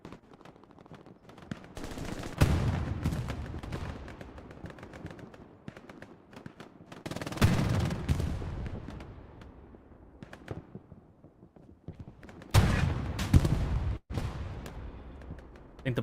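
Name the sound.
Puma firing at Stuart tank, Hell Let Loose video game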